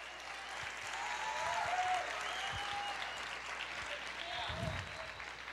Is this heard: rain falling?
no